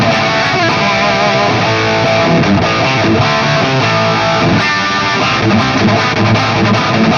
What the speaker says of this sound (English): it features a chrome EMG 81 active humbucker. This pickup is often used to obtain crushing metal tones, so here's how it sounds through the AFD100.